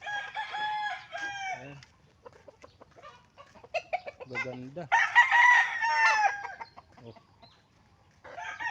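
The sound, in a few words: fighting roosters crowing and clucking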